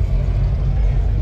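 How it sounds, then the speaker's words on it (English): A parked Oldsmobile 442 Cutlass with a twin-supercharged engine idles in a steady, loud, deep rumble that holds without revving for a brief moment at a car meet. "442 Cutlass. Running. Twin supercharger."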